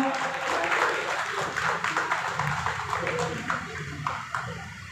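Crowd applause welcoming guests at a neighbourhood ward committee gathering in Sonarpur, uneven clapping of moderate loudness with a voice talking over it and some crowd murmur.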